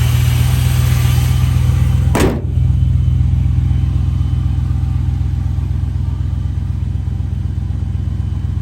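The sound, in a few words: 1972 Dodge Polara ex-Washington State Patrol car engine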